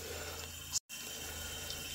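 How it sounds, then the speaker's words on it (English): Water runs steadily into a toilet tank as it refills through the fill valve, a continuous close hiss and rush broken by one brief dropout partway through. "As water refills the tank, the valve will rise to a certain level"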